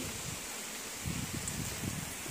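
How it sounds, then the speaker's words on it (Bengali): Wind rustles the trees around a house during a light, steady rain. A constant soft whoosh swells a little partway through, with a low gusty rumble, and no voices are heard. "আর এখন তো বৃষ্টি হচ্ছে, আরও বাতাস বেশি।"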